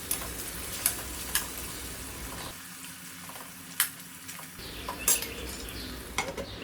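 A spoon stirs pointed gourd (parwal) sabzi cut in medium-thick pieces in a pan, giving soft scraping and clinking against the metal over a steady background sizzle, with a few sharper taps scattered through the stirring.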